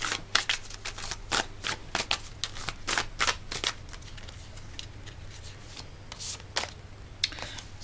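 A deck of tarot cards is shuffled close up in a series of crisp riffling bursts, with quiet gaps between them and a low hum underneath.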